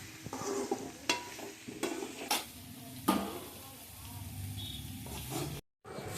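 Ginger sautéing in a pan for homemade pickle: a soft, continuous sizzle with intermittent scraping stirs of a utensil against the pan. The sound is close but faint.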